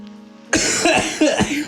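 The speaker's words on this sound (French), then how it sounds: "c'est pour ça que tu tousses" A person gives a run of four or five sharp, close coughs in quick succession, right after a brief steady hum.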